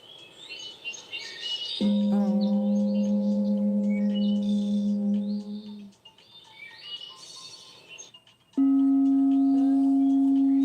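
Two steady sine wave tones, each held for a few seconds at a constant pitch, clean and loud, with faint chirpy sounds between them.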